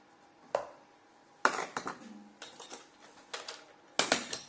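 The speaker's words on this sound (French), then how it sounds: "On remet et on mélange." Batter being stirred with a utensil in a bowl for sweet potato and pecan mini muffins, heard as irregular clinks and scrapes against the bowl, several sharp taps spread across the stretch at close range.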